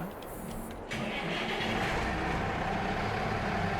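A DLC tractor in Farming Simulator 22 cranks and fires up after a short starter whir, then settles into a steady, close mid-pitched engine rumble that carries on alone.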